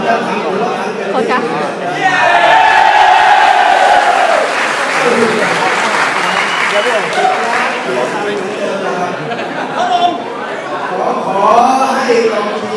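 A crowd of supporters cheering and chattering, a dense continuous roar with clapping mixed in, loud throughout and swelling around the middle, with voices rising over it near the end.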